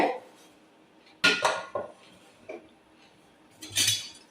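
A pot of chicken biryani is opened with a few sharp metallic clanks of lid and spoon, then more clinks a couple of seconds later. The sounds are close, separated by quiet gaps.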